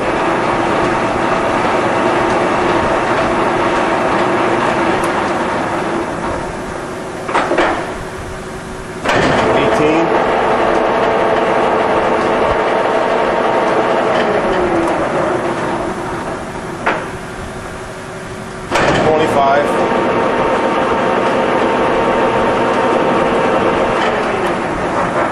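A rotary table grinding machine runs at table speed 12, giving a steady loud mechanical drone with a grinding hiss, broken by a few short clunks and brief dips in level as the machine shifts.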